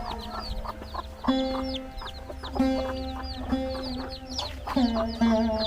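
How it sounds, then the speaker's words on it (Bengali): Roosters and hens raised together on a rural river-island farm cluck repeatedly in short bursts, with a few longer calls overlapping, fairly close against a quiet background and no speech. "মোরগ মুরগি একসাথে এখানে বেড়ে উঠতেছে অনেক মোরগ মুরগি এখানে আমরা দেখতে পাচ্ছি"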